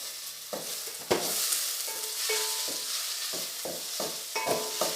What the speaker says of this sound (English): Saute this for a while. Add 3 green chillies slit.